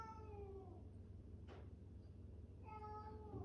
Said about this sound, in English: I have a cat who wants to go out.